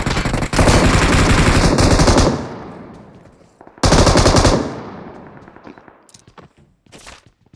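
Two long bursts of rapid automatic machine gun fire in a video game, loud and close, each cutting off abruptly, followed by scattered single shots and faint clicks.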